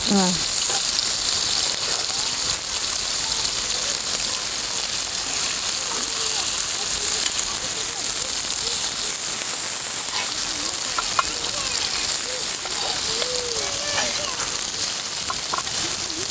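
Fish frying crisp in a pan Maharashtrian style, a loud continuous hiss and crackle of hot oil filling the whole stretch, with a voice talking faintly now and then.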